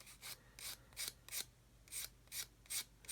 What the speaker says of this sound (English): Sand out just like that.